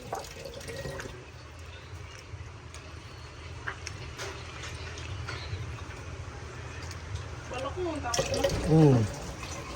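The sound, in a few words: water being poured in to fill a pot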